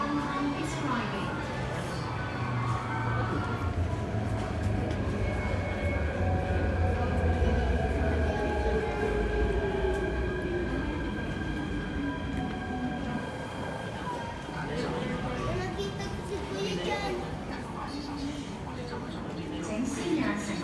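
A metro train pulls into Lai King Station in Hong Kong with a loud rumble and a falling, whining squeal of braking wheels. Voices and platform announcements carry over the noise as the train slows to a stop.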